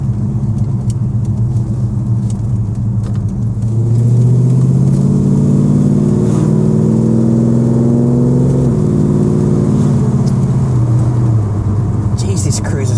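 Ford 351 Cleveland V8 with a Holley carburettor in an XW Falcon, heard from inside while cruising: a steady low engine rumble that swells slightly under light throttle midway, then settles, with voices talking over it.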